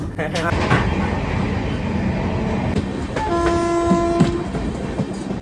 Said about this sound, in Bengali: বন্ধুরা দারুণ স্পিডে ট্রেন চলা শুরু করে দিয়েছে